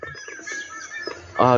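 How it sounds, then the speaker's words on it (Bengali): Large birds perched on a tower call out on a misty early morning: scattered faint chirps, then a loud, harsh, harmonic cry rings out clearly at the end. "ওই টাওয়ারের উপরে পাখি রয়েছে ওইখানে, আর খুব বড় বড় পাখি, ওরাই গাইজ এখন চিৎকার করছে।"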